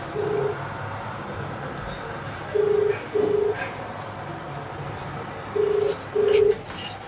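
A phone on speaker ringing out unanswered while a farmer's official is called, with five evenly spaced ringback tones over a low room hum, and no voices.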